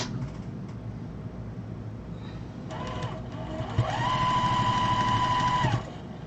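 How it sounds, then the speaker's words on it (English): A sewing machine stitches striped fabric for a long wall organizer, starting as a faint hum and then building to a steady, louder mechanical whir with a sustained tone for a couple of seconds before it stops. "So it's going to shove it in here and sew it."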